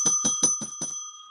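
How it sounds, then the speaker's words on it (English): Bicycle-style bell rung five times in quick, even succession, bright metallic dings close by, with the last strike left to ring out alone. "Where's my bell?"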